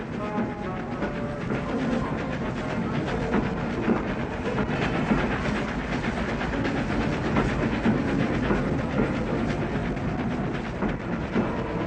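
Flying Scotsman, the 4472 steam locomotive, hauls a packed excursion train on a 1960s run, giving a continuous rumbling roar with rhythmic wheel clatter, steady and moderately near.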